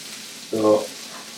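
String beans and garlic simmer in olive oil in a pan, a soft steady sizzle with one brief, louder tonal sound midway through.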